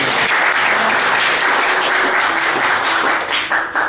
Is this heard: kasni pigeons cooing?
no